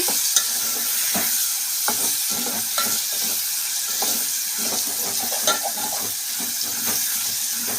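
Tomatoes with salt and turmeric softening in a hot pan, a continuous crackling sizzle up close, punctuated by regular scrapes and taps of a spoon stirring, with no voices.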